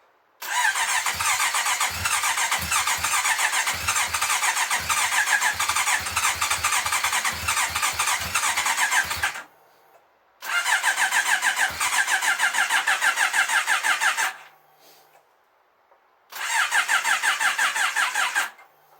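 A Honda CB650R motorcycle engine, freshly rebuilt, cranks over repeatedly on its starter in three long loud bursts separated by short pauses, with a rapid chugging rhythm and no clear catch into a steady idle.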